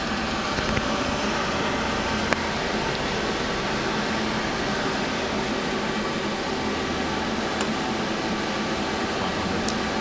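Feeler HT 30Y CNC turning center running its live tool spindle: a steady, loud mechanical whir and broadband hum, constant throughout with faint occasional clicks and no talking.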